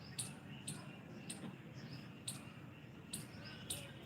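Birds chirp outside in short, sharp, high calls repeating roughly every half second to second, distant and faint over a soft background hiss.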